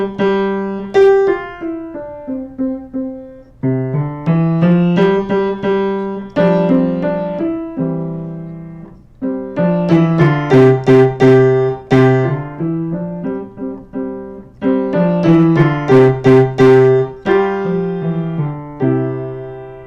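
A lesson piece is played quickly at allegro tempo on a piano, bright runs of detached notes in several phrases with short pauses between them, close and clear, with no talk.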